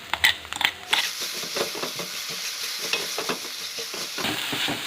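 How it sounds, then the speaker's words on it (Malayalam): Onions sautéing with a ground paste of green chilli, ginger and garlic for Kerala chicken dum biryani, a continuous close sizzle under repeated scraping and stirring strokes, with a few sharp clatters at the start. "അപ്പോൾ അതുകൂടെ ചേർത്ത് നല്ല രീതിയിലൊന്ന് വഴറ്റിയെടുക്കാം."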